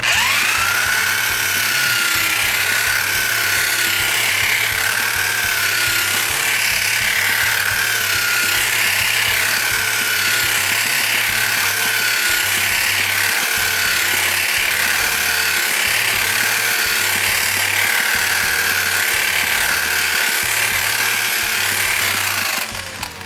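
A German column mixer churns CSA mortar in a bucket for a veneer stone accent wall, a loud, continuous motor drone with rhythmic paddle knocking that runs unbroken for over twenty seconds.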